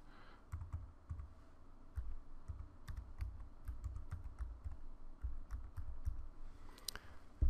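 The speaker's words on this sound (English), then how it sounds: "And here I simply type in the address." Rapid computer keyboard typing as a web address is entered, a steady run of crisp close key clicks with short pauses and no voices.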